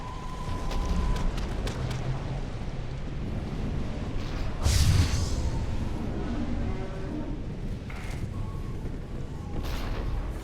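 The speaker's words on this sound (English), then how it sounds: "One biotic explosion after another." Biotic explosions in a sci-fi shooter video game burst one after another, with booming blasts and rumbling impacts layered over a dense battle soundscape, the loudest near the middle.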